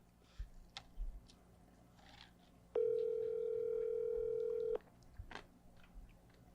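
A telephone line gives a soft click and then a steady, clear dial tone that holds for about two seconds before cutting off, with quiet room noise and faint clicks around it.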